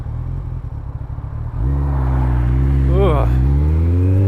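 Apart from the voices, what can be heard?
Kawasaki ZX-14R motorcycle accelerating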